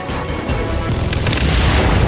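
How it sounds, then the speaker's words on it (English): A heavy airstrike explosion booms in the shooter game Second Extinction, a dense, rumbling blast that fills the short stretch at full loudness. "Airstrike!"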